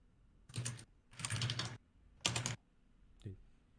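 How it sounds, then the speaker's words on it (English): Typing on a computer keyboard during an online staff meeting: three quick bursts of clattering keystrokes with short pauses, then a single faint tap, close and fairly quiet with no talking. "I was just typing in the minutes"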